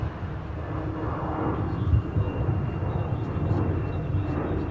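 A Delta airliner takes off at MSP airport with a steady low engine rumble, moderately distant and even, with no voices present.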